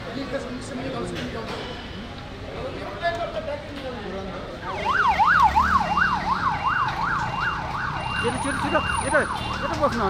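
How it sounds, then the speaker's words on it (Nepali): Siren of a restored 106-year-old fire engine, a loud rapidly warbling wail that rises in over crowd chatter and continues steadily, with people talking throughout. "106 वर्ष पुरानो दमकललाई मर्मत गरी अहिलेको चलायमान अवस्थामा"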